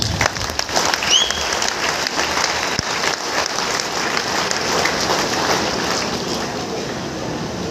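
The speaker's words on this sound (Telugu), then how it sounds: "అందరికీ ఒకసారి బిగ్ క్లాప్స్" An audience at a gathering gives a big round of applause, a dense and steady clatter of many hands clapping that carries on loudly through the whole stretch.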